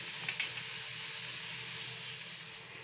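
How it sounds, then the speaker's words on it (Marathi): Onion fries in a pan with a steady, close hiss and sizzle, with a couple of light stirring clicks near the start. "आता आपण कांदा गोल्डन कलरचा होईपर्यंत व्यवस्थित भाजून घेऊया."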